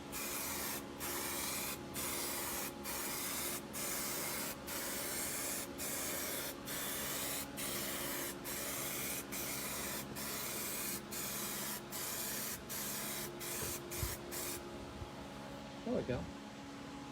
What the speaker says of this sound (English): I'll go on past and again begin spraying before I get to the piece.